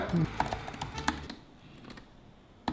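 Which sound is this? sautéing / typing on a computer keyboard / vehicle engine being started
typing on a computer keyboard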